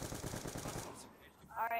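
Rapid gunfire in a multiplayer video game, a fast burst of repeated shots for about a second, then quieter game sounds, with players talking faintly.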